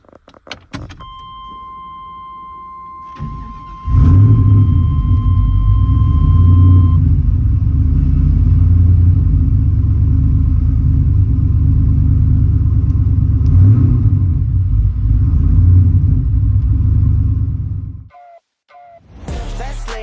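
A high-horsepower pickup truck, around 800 horsepower, rolls into a shop with a deep steady engine rumble at close range for most of the stretch, after a brief electronic tone and some light jangling at the start, then cuts off near the end.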